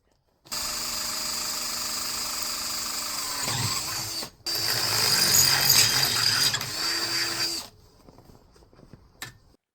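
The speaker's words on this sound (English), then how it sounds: "Got a plate to go under there. Drilling a couple holes in it." A power drill bores a couple of holes through a quarter-inch steel reinforcing plate for a winch mounting plate, a loud steady whine running for several seconds, a brief pause, then a second hole, winding down to a few faint clicks.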